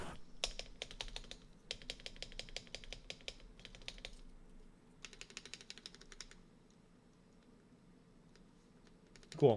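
Fast bursts of keystrokes on a custom Vanguard65 mechanical keyboard with thick PCB and rattly stabilizers, crisp close clicks in rapid runs with short pauses, then quiet near the end.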